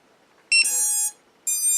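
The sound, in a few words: quadcopter drone startup beeps after plugging in battery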